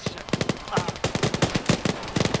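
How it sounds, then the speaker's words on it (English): Rapid bursts of anti-aircraft gunfire in the Ace Combat video game, a steady rattling stream of loud shots repeating through the whole stretch. "I see an anti-air on the right. An anti-air gun."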